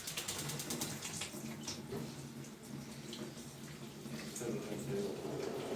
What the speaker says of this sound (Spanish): y doy el agua. Se va a prender el quemador.